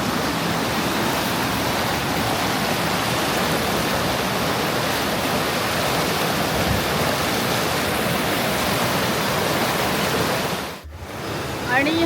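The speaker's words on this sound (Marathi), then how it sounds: "पाण्याचा प्रवाह बघा तुम्ही खूपच जोरात आणि ओसांडून वाहतो आहे" A strong monsoon stream overflowing near a temple rushes loudly and steadily, a dense continuous roar that holds throughout before a brief dip near the end.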